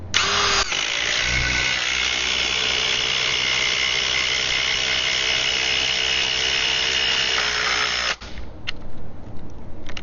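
A Ryobi P239 brushless impact driver on a high-output 3 amp hour compact battery drives a 4-inch lag bolt, a loud steady hammering whir lasting about eight seconds before cutting off abruptly.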